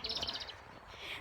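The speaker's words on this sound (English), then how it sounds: "A robin there, look guys." A robin sings in open countryside beside an old horse field, a bright run of high chirping notes in the first half followed by a softer trill, fairly close and clear over a quiet outdoor background.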